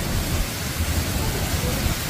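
Heavy rain from Cyclone Jasper: dense, steady roar of downpour and wind-driven water, loud and continuous with a deep rumbling low end throughout.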